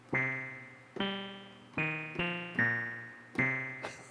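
A retro chiptune-style synth plays a slow sequence of single bright, buzzy notes, each decaying before the next, alone with no talking.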